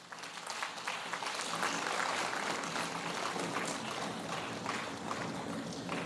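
Sustained applause from the audience at a university convocation ceremony, a dense, even wash of clapping at steady loudness that fills the whole stretch without a break.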